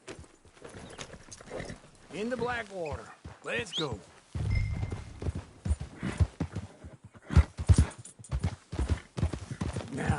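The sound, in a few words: horse hooves clip-clopping in a video game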